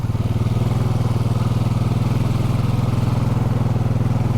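A Honda Foreman ATV engine running steadily nearby in mud, a rapid low putter with an even, continuous rhythm and no talk.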